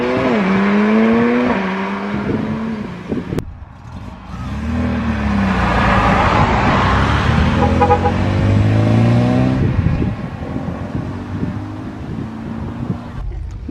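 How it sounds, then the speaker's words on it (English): Chevrolet Impala pulling away from an outdoor car meet, its engine revving hard through several rising gear pulls as it passes close, loud and roaring, then fading into the distance under wind noise. "The Chevrolet Impala's off."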